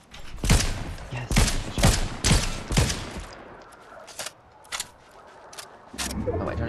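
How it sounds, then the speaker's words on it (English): Shotgun blasts in the battle-royale video game Fortnite, several loud sharp shots at an uneven pace in the first half, followed by quieter scattered game sounds. "Shotgun."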